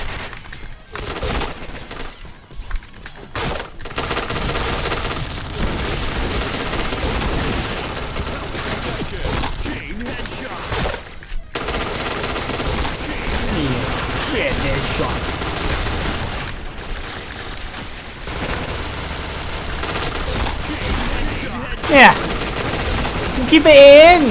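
A Kriss submachine gun fires in the shooter game Point Blank in rapid automatic bursts, interrupted by short pauses, with someone talking over much of the gunfire.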